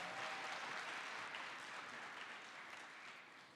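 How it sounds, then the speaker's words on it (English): An audience at a college student leadership retreat panel claps steadily, a dense, even wash of applause that fades slightly toward the end, with no voices on top. "let's give Octavio another round of applause"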